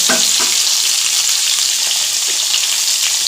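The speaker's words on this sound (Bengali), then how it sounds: "আলু পটলগুলো লাল করে ভেজে নিয়েছি" Potatoes and pointed gourd fry in a pan with a steady, loud sizzle and hiss throughout, broken by a few soft stirring knocks near the start.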